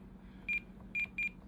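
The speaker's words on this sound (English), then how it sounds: "Every time you shut the throttle off, it beeps." A Spektrum radio transmitter beeps as the throttle is shut off: four short, sharp electronic tones, one alone then three in quick succession, clear and close over a faint low hum.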